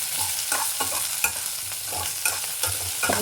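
Chopped onion, ridge gourd and curry leaves sizzle in a hot pan for chutney while a spoon scrapes and stirs in repeated, uneven strokes, close and clear over a constant frying hiss.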